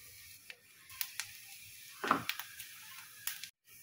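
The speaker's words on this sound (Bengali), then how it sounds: "তেল গরম করতে দিয়েছি, জিরে কালো জিরে তেলের উপর দিয়ে দিলাম।" Cumin and nigella seeds crackle in hot oil, a soft continuous sizzle broken by a few sharp pops and spits that are close and fairly quiet, with no voices.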